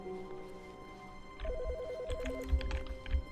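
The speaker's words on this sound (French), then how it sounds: "Il y a un téléphone." Electronic telephone in the office setting of the video game The Stanley Parable, a rapid warbling trill starting partway through and lasting about a second, faint under quiet background music and some low thumps.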